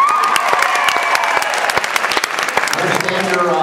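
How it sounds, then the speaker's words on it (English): An audience at a beauty college special event bursts into applause, loud and sustained with sharp individual claps and some cheering, and a voice speaks briefly near the end. "Big round of applause for Whitney"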